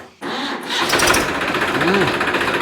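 A tractor engine starts with a sharp catch and settles into a steady, buzzing run, loud and close, while a person talks faintly over it.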